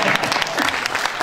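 Audience applause at a Bible congress, a steady burst of clapping from a crowd lasting just over a second, fairly loud and continuous with no pauses.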